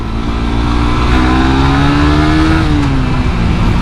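A Suzuki GSX R150 motorcycle (2017) on its stock exhaust revs hard and holds at high RPM, its engine note climbing and then dropping, loud and close with no talking.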